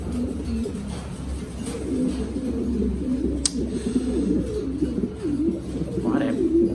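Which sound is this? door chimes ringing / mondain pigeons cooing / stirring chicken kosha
mondain pigeons cooing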